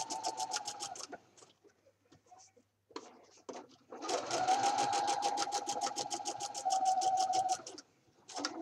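A sewing machine stitches down the leg of a pair of jeans being altered into bell bottoms, running in short, rapid bursts before a longer steady run with clearly audible individual needle strokes.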